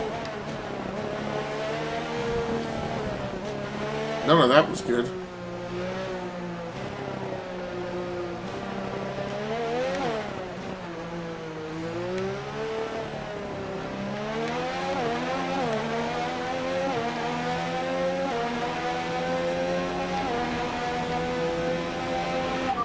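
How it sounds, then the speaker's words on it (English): F1 2019 racing game car engines whine and rev continuously, pitch rising and falling with shifts, with a brief clatter of tire noise; a voice speaks briefly. "really listening to my engine"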